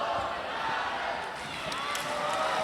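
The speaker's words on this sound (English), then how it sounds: "as the chants ring up in the crowd" Crowd noise fills a hall at a women's cloth dodgeball gold medal match between Austria and Northern Ireland at the world championships, as a steady loud wash of chanting and cheering with a few ball thuds underneath.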